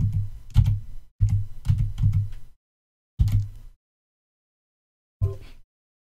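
Typing on a computer keyboard: a few short bursts of quick key clicks, close and clear, separated by silent pauses, ending with a single isolated keystroke.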